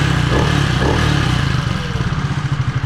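A freshly reassembled Beta 300cc single-cylinder four-stroke motorcycle engine runs close up, a loud steady idle with a rapid thumping beat and some mechanical clatter.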